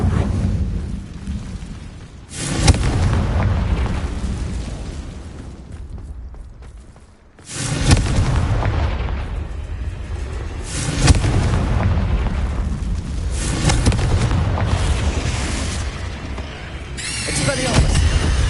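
Repeated Confringo fire spell blasts in the video game Hogwarts Legacy, loud booming bursts in several waves with rumbling tails, broken by a brief lull midway.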